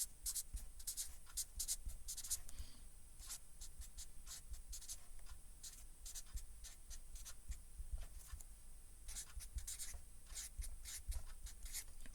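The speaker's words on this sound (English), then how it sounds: "Let me write her name down on this piece of card." Pen strokes scratch and rub quickly on a piece of card as a name is written, close and faint, in short bursts with brief pauses between strokes.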